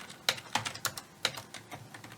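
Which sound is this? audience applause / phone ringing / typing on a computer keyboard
typing on a computer keyboard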